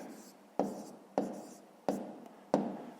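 A pen writing numbers on paper while working a fifth-grade maths exercise, four regular scratchy strokes close to the microphone in a quiet room.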